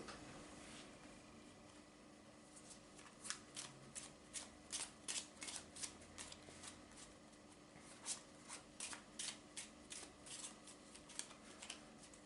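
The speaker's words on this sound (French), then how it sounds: "je vais te demander de mélanger le jeu" A deck of playing cards is shuffled during a magic trick, making a run of quick, crisp riffling bursts in an irregular rhythm, fairly faint against a quiet room.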